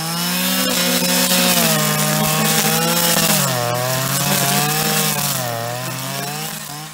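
A power saw cutting brush and vegetation on a hillside meadow gives a loud, continuous motor whine that rises and dips in pitch as it bites. No one talks.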